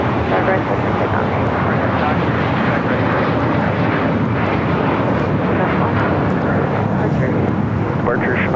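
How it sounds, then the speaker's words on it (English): A Gulfstream 650 ER business jet takes off from LAX, bound for Zurich, giving a loud, continuous engine roar that holds steady throughout with a faint voice underneath. "That Gulfstream 650 ER taking off to Zurich."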